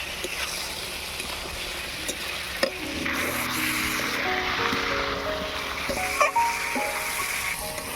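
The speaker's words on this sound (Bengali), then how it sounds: "এবার ভালো করে কষিয়ে নেব" Vegetables with cumin and green chilli, with a splash of water, being stir-fried in a pan, a steady close sizzle with spatula scrapes and a few sharp knocks against the pan.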